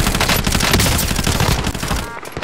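Dense automatic gunfire from Call of Duty Modern Warfare rattles continuously at close range, loud and rapid, thinning out slightly near the end.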